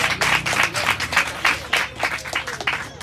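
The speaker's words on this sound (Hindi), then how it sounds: "आइए पाक रूह के लिए जोरदार" Church congregation clapping and applauding together, a dense rhythmic patter of many hands with regular beats, loud and close, with little else audible.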